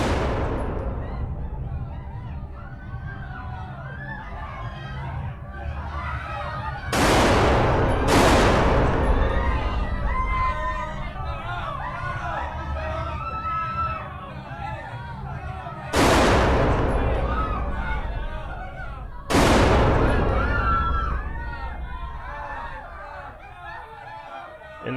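Gunfire sound effects in a Spanish-language radio drama: four or five loud, sharp booming shots spaced several seconds apart over a continuous bed of shouting, screaming crowd voices.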